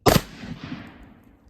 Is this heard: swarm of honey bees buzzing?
no